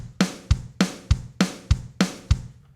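A steady country train beat programmed in Logic Pro X, alternating low thumps and crisp snare hits on the end of every beat in a quick, even shuffle that repeats throughout with no voices.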